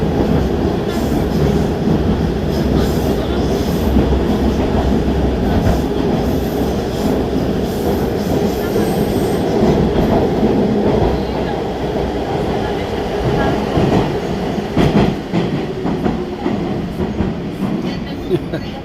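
Inside a moving Saint Petersburg metro carriage, a loud continuous rumble of wheels on rails carries on throughout, with rhythmic clatter and occasional metallic squeals from the track.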